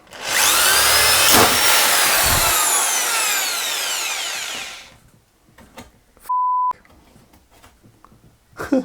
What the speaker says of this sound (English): Okay, I'm drilling into an Apple IIe.